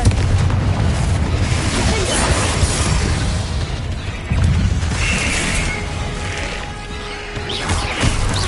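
The Confringo spell from a Hogwarts video game detonates in a dense, loud wash of blasts and crashes, with rumbling booms rising and falling throughout and no talk.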